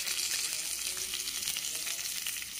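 Garlic and onion frying in a pan, a dense, steady, close-up sizzle with soft crackles that holds evenly throughout with no talking.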